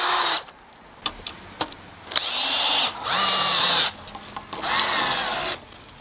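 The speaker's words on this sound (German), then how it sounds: "Nehmen wir jetzt hier die 100er Schraube, weil die 120er wäre zu lang und würde hier durchgucken." A power drill drives 100 mm screws into the wooden frame of a beehive stand in three loud, close bursts of whirring, each about a second long, separated by pauses with light clicks and knocks.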